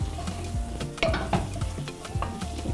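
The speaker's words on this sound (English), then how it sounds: "Fry up the tomato paste and the seasonings for some 2 to 3 minutes" Tomato paste and seasonings fry in a pot for smoky party jollof rice, a close sizzle under repeated scraping and clinking stir strokes against the pot, with a few louder knocks and no voices.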